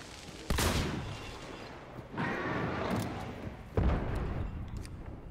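Three separate gunshots from a gun in the video game Hunt: Showdown, each a sharp loud crack with a lingering rumbling tail, spaced out over a few seconds.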